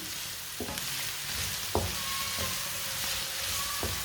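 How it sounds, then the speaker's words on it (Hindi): Vegetables being stirred and tossed in a hot frying pan for a home recipe, with a steady low sizzle and a few sharp utensil scrapes and knocks at irregular intervals, no voices. "सब्जियों को मैंने अच्छी तरह मिक्स कर लिया।"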